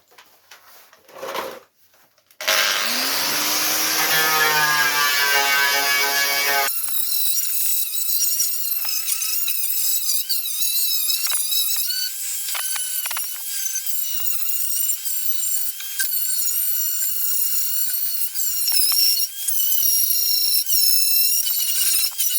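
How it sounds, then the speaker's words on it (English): Angle grinder fitted with a poly strip disc cleaning bare metal on a Ford Escort MK1 body, a sustained high whirring scrub close by after a short start-up, running steadily for some twenty seconds with no talking. "as usual, using the poly strip discs to do this, because these work really well"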